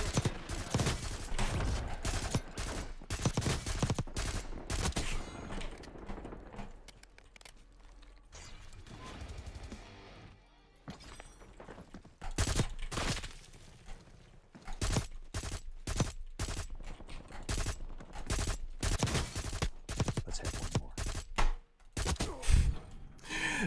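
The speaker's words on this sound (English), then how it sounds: "That's a burst weapon, dude?" Burst-fire weapon shots in Call of Duty Warzone solos, loud clustered cracks in rapid groups repeating across the whole stretch, with short quieter gaps between volleys.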